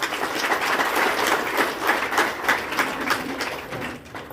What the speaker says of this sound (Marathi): या सगळ्यांचं मोठ्या टाळ्या देऊन स्वागत करायचंय